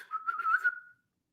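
A person whistling a short rising-and-falling tune for about a second, clear and close, then silence; the whistle imitates a street call.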